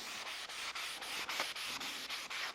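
Abrasive paper rubbed back and forth along a wooden guitar neck, a steady rhythmic rasping of about ten even strokes, close and alone.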